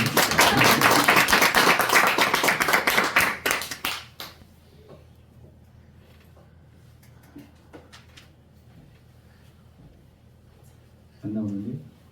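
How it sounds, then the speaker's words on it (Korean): A church congregation claps hands together during a worship service, loud and rhythmic for about four seconds before it fades into quiet room noise. A voice speaks briefly near the end. "아, 저도 한번 박수 한번 쳐주시죠."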